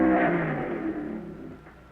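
The Green Monster drag racing car accelerates away at the 1958 NHRA U.S. Nationals in Oklahoma City, a loud roaring engine that fades steadily as it pulls into the distance.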